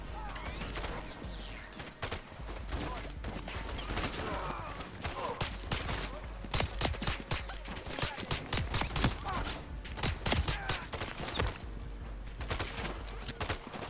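Gunfire in a Call of Duty Modern Warfare 3 campaign mission set on a highrise: rapid, irregular cracks and bursts of shots that grow denser toward the middle, fairly quiet and somewhat distant against a steady background.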